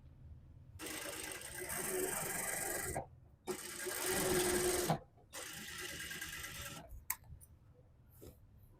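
An electric sewing machine stitches along the edge of a suit front in three sustained whirring bursts separated by brief pauses, fairly close and quiet, followed by a few small clicks.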